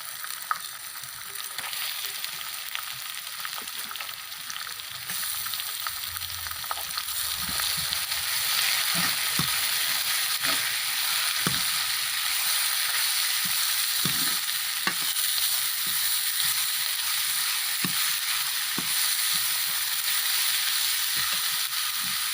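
Onions added to golden-brown garlic and frying in a pan, a steady hissing sizzle that swells after the first few seconds, with occasional soft spoon stirs and taps.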